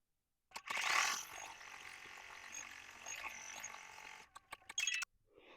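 An embroidery machine stitches a tack-down line in yellow thread on a Kimberbell bunny rain boot pillow block. A steady, close mechanical whirr with rapid ratcheting needle clatter runs for about four seconds, then ends in a few short clicks.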